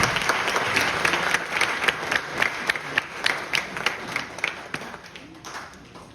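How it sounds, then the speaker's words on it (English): Audience applause at an international conference valedictory session at JECRC University, a steady wash of many hands clapping with distinct sharp claps standing out, sustained and fairly close. "Please give a big round of applause, everyone."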